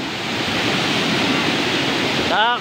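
Steady rushing roar of a waterfall that keeps flowing even in summer, close and continuous, with a brief voice breaking in at the very end.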